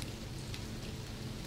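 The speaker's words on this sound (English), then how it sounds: "The rhythmic drumming of the rain outside lulls you into a state of blissful tranquility" Steady rain falls outside on a wet night by Lake Michigan, a dense, even hiss of drops drumming on surfaces at a constant level throughout, with no voices or other sounds.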